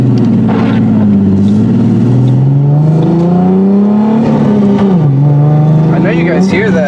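A car engine revs loudly and steadily with rising and falling pitch, running close by throughout, and a voice talks over it near the end.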